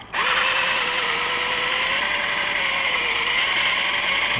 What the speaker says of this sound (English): The idea is to drill straight down the center of it.